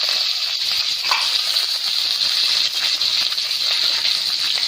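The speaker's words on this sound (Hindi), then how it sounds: "अब उसमें हम डालेंगे मस्टर्ड सीड और कुछ करी लीव्स" Mustard seeds and curry leaves sizzle in two tablespoons of hot oil in a pan, giving a loud, steady, hissing crackle that runs unbroken and close throughout, with no talking.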